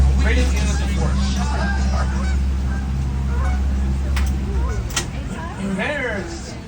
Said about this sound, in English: we have the Canadian geese on retainers, so they do a nice performance for us every weekend